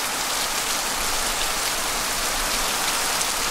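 Steady, dense rainfall in an Amazon rainforest in Ecuador hisses evenly throughout, a constant downpour pattering on leaves and surfaces with no voices.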